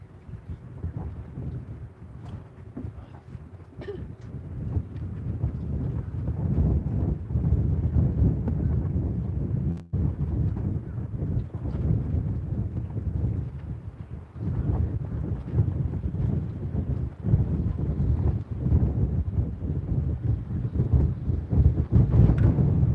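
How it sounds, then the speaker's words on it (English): Strong wind buffets the microphone at a lake while catfishing, a low rumbling roar that rises and falls in gusts with occasional knocks, loud and continuous for the whole stretch. "I think the wind just blew your rod over."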